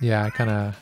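A cat meows twice in quick succession, close and fairly loud, in a quiet room.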